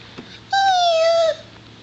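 A child imitates a cat's meow in a single drawn-out, nasal mew lasting under a second, close and clear against a quiet room.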